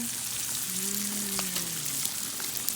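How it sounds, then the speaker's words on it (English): Steady hissing sizzle of food frying in a hot pan, close and continuous, with a faint low hum underneath and no talking. "look at the sizzle"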